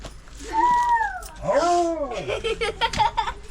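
A dog's high, drawn-out whining cries, a few rising and falling wails close by, followed by softer short whimpers.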